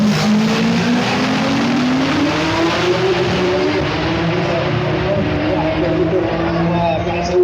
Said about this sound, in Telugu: ఇదైతే Ford Mustang GT Shelby turbo juicer బయటకు వచ్చేసింది